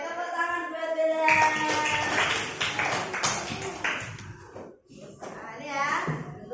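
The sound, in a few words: children clapping applause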